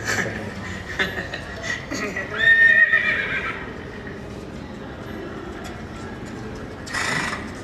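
A horse neighs with a clear whinny in the middle of the clip, set in a stop-motion film alongside background sounds and brief voices.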